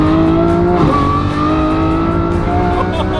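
A Lamborghini Revuelto accelerates hard with its power restored, the engine pitch climbing and revving loudly at close range over road and wind noise.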